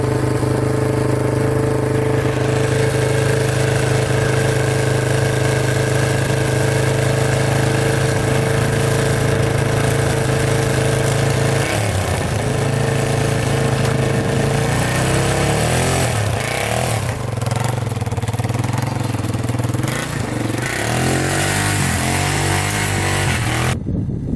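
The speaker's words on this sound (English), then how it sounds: "Alright, it's running pretty good." A quad ATV engine runs loudly up close, with a steady rough idle that shifts pitch partway through as the throttle varies, filling the whole span with no talk.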